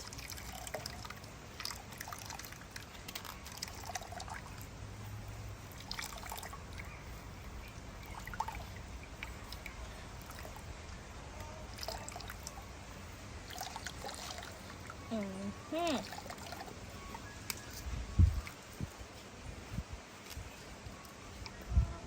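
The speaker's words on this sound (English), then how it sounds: "Now we have to bust a little squeeze. First we'll get all our juice out." Coconut milk squeezed by hand from grated coconut for Jamaican run-dung, cooked outdoors: soft steady dripping and trickling of liquid, with low outdoor background and a couple of brief knocks near the end.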